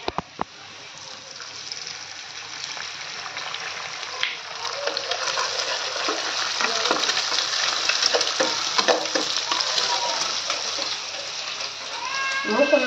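An egg fries in a pan with a steady close sizzle and occasional stirring, while a cat meows intermittently in the background.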